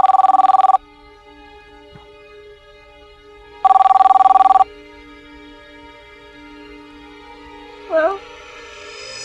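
Cell phone ringing in two loud electronic ringtone bursts separated by a pause, followed by a faint brief tone near the end in a quiet room.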